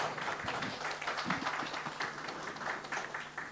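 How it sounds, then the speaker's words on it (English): An audience applauds at a lecture with a steady spread of hand claps, moderately quiet and sustained for several seconds, with no speech over it. "So a round of applause for Venerable Ru Singh."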